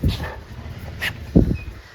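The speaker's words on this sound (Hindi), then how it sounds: "कीटो को ना स्मेल आ रही है मेरे उसमें से, बॉडी में से, दूसरे कुत्तों की।" A pet dog makes a few short, close sounds, with soft whimpers and scuffling bursts near the start and again toward the end, against quiet background noise and with no talk.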